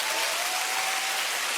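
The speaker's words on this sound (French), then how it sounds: "Par applaudissement." A comedy club audience applauds after a comedian's question about women harassed by men on the street, a steady broadband wash of clapping with no voices over it.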